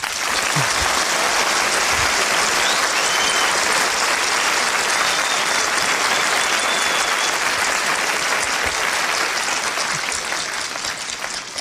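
Sustained, dense applause from a crowd, steady and loud for the full length with no pauses.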